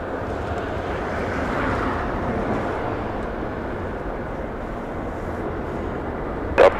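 Southwest Airlines Boeing 737 NG jet at Los Angeles International Airport gives a steady, broad engine roar that holds level throughout, ending with a brief sharp knock.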